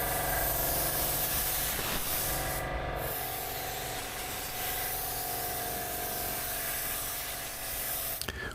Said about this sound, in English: We are applying 2 coats of clear